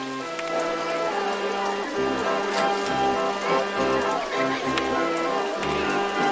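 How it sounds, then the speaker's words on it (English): Steady rain pours down in the original RollerCoaster Tycoon, a continuous hiss spread beneath looping melodic game music, with no pauses or distinct drops standing out. "it sounds like that's happening with the rain. It's coming down."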